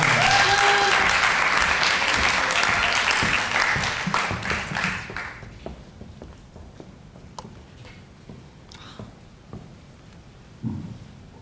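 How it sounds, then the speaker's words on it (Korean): An audience claps loudly to welcome a student presenter at a university admissions talk. The dense applause thins after a few seconds into scattered individual claps, with a brief low sound near the end. "우리 이소정 학생을 큰 박수로 맞이하겠습니다"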